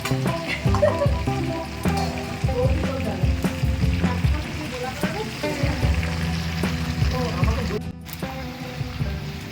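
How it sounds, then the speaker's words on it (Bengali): Cauliflower frying in oil at an outdoor picnic, a steady sizzle under background chatter and clattering activity throughout. "এবার এটা ফুলকপি ভাজা হচ্ছে।"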